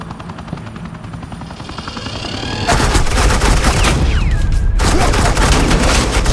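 Suppressing gunfire in Batman: The Enemy Within, with sustained automatic weapon bursts over a helicopter's throbbing rotor drone that grows louder and denser midway, alongside a brief descending whine.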